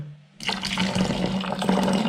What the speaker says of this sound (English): I'm literally just pouring it in.